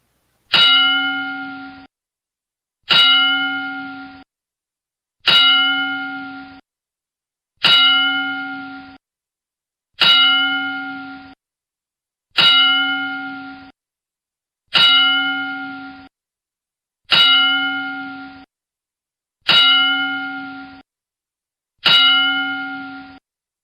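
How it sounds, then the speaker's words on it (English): A wrestling ring bell rings ten times for a memorial salute, each clang sharp and metallic with a long ringing decay, struck at an even pace of roughly every two and a half seconds in otherwise silent space. "we're going to take a moment here and give a 10-bell salute to Road Warrior Animal"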